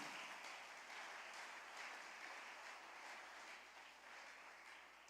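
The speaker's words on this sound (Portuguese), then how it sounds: "Pode aplaudir ao Senhor." A church congregation applauding together, a steady wash of clapping from a large room that holds for several seconds and eases slightly near the end, heard at a moderate distance with no voices over it.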